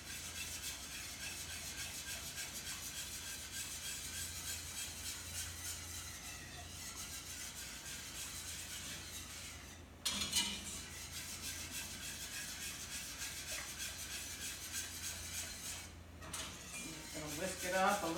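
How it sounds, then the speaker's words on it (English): Cajun Alfredo sauce being whisked in a pan, a steady, close rhythmic scraping and rubbing that runs throughout with a short metallic clank midway. "Whisk it up a little bit more here."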